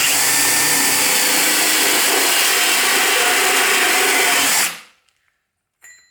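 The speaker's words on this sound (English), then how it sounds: "now we're going to drill through this side" A power drill bores steadily through a wooden piece from its back side, a loud continuous whine that stops abruptly near the end, followed by a brief faint clatter.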